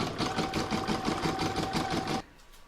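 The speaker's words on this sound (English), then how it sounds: "Now I'm going to pop that back into my machine and stitch round number 3" Embroidery machine stitching a fabric placemat, a steady close rapid mechanical chatter running for about two seconds before stopping abruptly.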